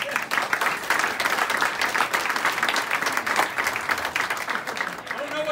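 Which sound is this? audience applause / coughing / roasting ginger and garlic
audience applause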